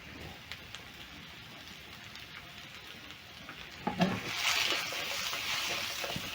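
Parboiled potatoes tossed in a pan of hot oil and butter make a steady crackling fry, swelling into a louder rattling sizzle as the pan is shaken partway through.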